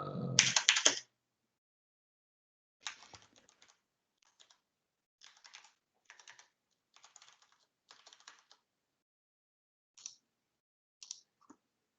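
Typing on a computer keyboard: after a brief loud thump at the start, short bursts of quick keystrokes come in uneven clusters with pauses between them, close and fairly quiet, with no talking.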